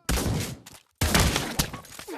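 Shotgun fire in the Pavlov VR video game comes as two loud, close, broadband blasts, each with a rattling tail, separated by a sharp cutoff and followed by a few quicker cracks.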